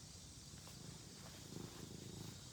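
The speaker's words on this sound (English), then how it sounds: "I hear the purring." Soft, close cat purring, a quiet rhythmic rumble that continues throughout with faint rustling.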